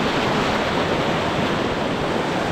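Kayak paddling through rapids on the River Spey: constant roaring rush of white water and wind buffeting the microphone, loud and close, with no clear voices.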